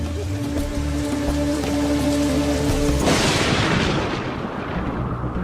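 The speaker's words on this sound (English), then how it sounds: "And the reason for all this rain? The monsoon." Heavy monsoon rain in the Himalayas pours down as a dense, loud, continuous hiss, with a low music-like drone fading out partway through and the downpour carrying on alone.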